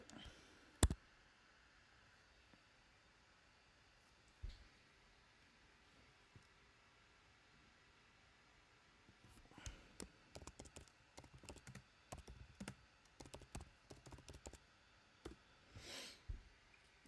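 Computer keyboard keys clicked and typed in a quiet room, a few isolated taps early on, then a dense burst of rapid typing with sharp clicks in the second half, fairly faint and with no talking.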